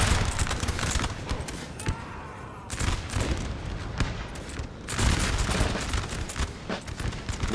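In Napoleon Total War, set at the Battle of Lapua in 1808, dense musket volleys crackle and cannon booms roll continuously, loud and layered like a distant battlefield, with no talk.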